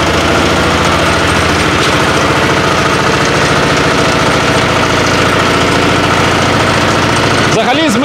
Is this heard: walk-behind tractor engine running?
yes